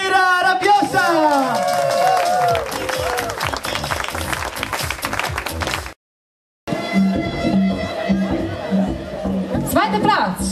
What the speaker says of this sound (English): Make one big applause for...